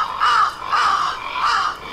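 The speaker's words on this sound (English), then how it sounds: "Same crows." Crows caw in The Last Door game, three loud harsh calls spaced evenly about half a second apart, close and clear with no voices.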